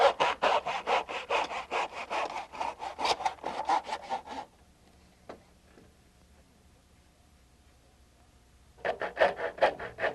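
A hand saw cuts a 45-degree angle through wooden baseboard in quick, even back-and-forth strokes for several seconds, then stops. A quiet pause follows before the rasping strokes start again.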